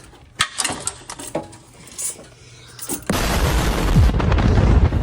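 Ratchet tightening bolts on the turbo downpipe of a Silverado truck during a big turbo install, a few sharp clicks and knocks followed by a louder, denser stretch of mechanical clatter and noise, close by.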